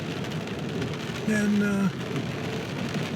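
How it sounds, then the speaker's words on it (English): Rain patters steadily on a car windshield while driving, a continuous soft wash of drops and road noise, with a brief tonal sound midway and a single spoken word. "we got some rain here on the windshield"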